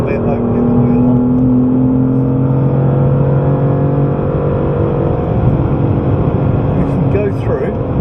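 BMW M3 accelerating on the Goodwood race track, a loud, steady engine drone that climbs in pitch over about eight seconds, heard from inside the car with an instructor talking over it.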